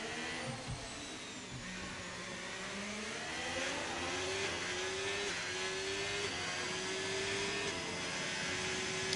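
An F1 car engine in F1 25 revs steadily upward with a rising whine that holds and climbs for several seconds, moderately loud and with no talking.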